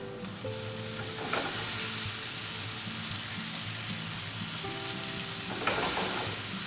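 Diced tomato frying in a hot pan, a steady close sizzle running throughout with light stirring scrapes and a couple of louder bursts as pieces hit the oil, alone with no talk.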